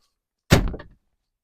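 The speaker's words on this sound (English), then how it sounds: "the rear doors, they are suicide doors, but they all work great and they're very easy to operate" Door of a Polaris General UTV swinging shut, a single loud, close thunk with a brief rattle that fades within half a second, otherwise quiet.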